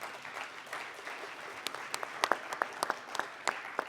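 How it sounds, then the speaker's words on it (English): Sparse applause from a conference audience after a climate-resilient water and sanitation panel, quiet and thin with scattered individual claps growing more distinct toward the end, no voices. "Can you give yourselves a big round of applause?"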